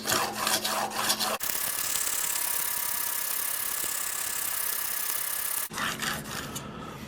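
A Swacker 252 broadhead scraped across an 800 grit sharpening plate, a steady close-up rasping rub that runs continuously, framed by short separate strokes at the start and end.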